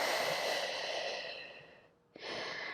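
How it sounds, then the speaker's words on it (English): A long, deep exhale during a standing Pilates balance workout fades out slowly, then a brief pause and a sharp, close inhale follow. "Deep breath in. Good. Exhale."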